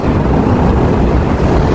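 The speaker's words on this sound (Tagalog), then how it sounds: "Makulimlim siya at mahangin. Malamig ang hangin." Strong, cool wind in Jeddah rumbling against the microphone in a steady, blustery roar with no voices, close and loud throughout.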